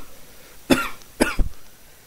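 Two sharp coughs from one person, close and loud, half a second apart, followed by a brief throat-clearing hack, then quiet.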